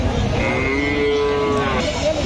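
A Friesian dairy cow moos at a cattle market, one drawn-out, fairly close low call rising and falling over a murmur of background noise.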